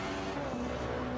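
A BMW DTM race car battling side by side at Zolder circuit, its engine a sustained, steady drone held at one pitch for a short stretch, with no voices.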